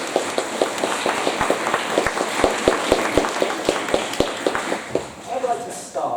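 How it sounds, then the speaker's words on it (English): Audience applause at a school open evening, with sharp individual claps standing out in an uneven rhythm over a general patter of hands, fading toward the end as a voice begins. "I think they deserve another big round of applause"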